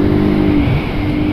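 A car engine revs loud and close, then its pitch drops partway through as the gear changes and the engine keeps pulling.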